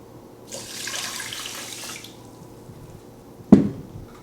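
Water pours into a rice pot for cooking, about a cup and a half of rice taking three cups, a soft rushing stream for under two seconds followed by a sharp clunk.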